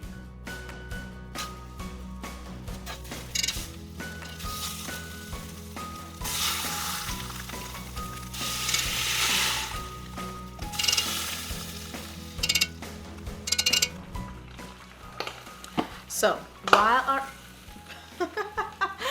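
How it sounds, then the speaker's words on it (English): Butter melting and sizzling in a saucepan while cooking for a home seafood boil, with a steady frying hiss and occasional stirring clinks that grow busier toward the end. "while our butter is melting"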